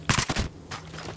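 A quick burst of gunfire in the video game Battlefield Hardline, several sharp loud shots in rapid succession followed by fainter rattling.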